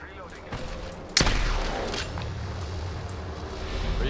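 Gunfire in the video game Apex Legends: a sharp, loud shot cracks out, followed by a sustained rumbling barrage and echoing blasts, with voices talking over the action.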